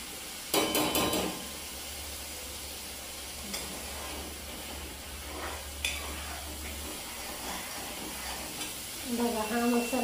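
Prawns fry in a pan with masala, a faint steady sizzle under occasional scraping stirs and clinks of a spoon against the pan, with a brief voice near the end.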